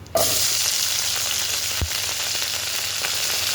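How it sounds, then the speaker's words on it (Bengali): Okra (bhindi) dropped into hot oil, left over from frying fish, bursts into a loud, steady, close sizzle that holds evenly, with one brief knock partway through. "এই তেলের মধ্যেই আমি ভেন্ডিগুলো ভেজে নেব।"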